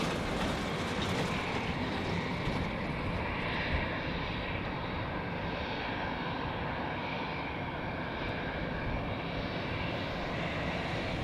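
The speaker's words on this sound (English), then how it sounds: "now the aircraft is guided precisely to the final parking spot" Aircraft taxiing to its parking spot at Zurich Airport, a steady, loud broadband jet engine roar with a whining hum, continuous and unbroken throughout, with no talk.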